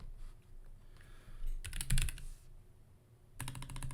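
Typing on a computer keyboard comes in two quick, close bursts of clicking keystrokes separated by a brief pause, loud and clear with no talking.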